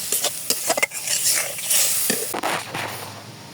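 Spice paste for a liver curry sautéed and stirred in a pan, scraping strokes and clinks from the spatula over a continuous sizzle, loud and close.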